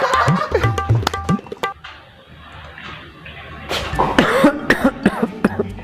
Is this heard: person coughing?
yes